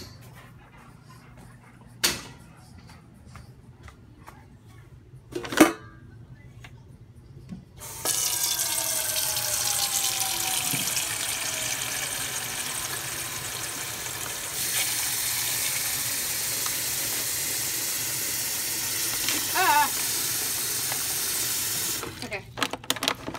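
A household tap runs into a sink to refill water for dogs, preceded by a few sharp knocks and a door or cupboard sliding, then a steady gush of running water for about fifteen seconds before stopping.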